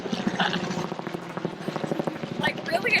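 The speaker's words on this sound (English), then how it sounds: "Like, really, a chopper?" A helicopter flies overhead in Xela, Guatemala, its rotor thumping in a steady rapid pulse, fairly loud, while people talk over it.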